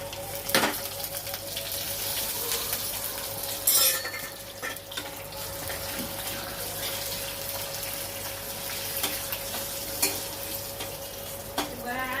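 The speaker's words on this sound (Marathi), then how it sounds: "तेल गरम करायला ठेवलंय। राई, जिरं, तीळ आणि कढीपत्ता एकत्र टाकते मी।" Mustard seeds, cumin, sesame seeds and curry leaves sizzle in hot oil, a steady close crackle with a few sharp pops and spatters throughout, moderately quiet, no voices.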